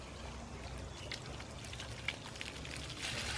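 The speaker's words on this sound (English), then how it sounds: "just the hose, and just give it a rinse off" A garden hose pours a steady stream of water to rinse off an animal skull being cleaned for a European mount. The water splatters continuously and gets a little louder toward the end.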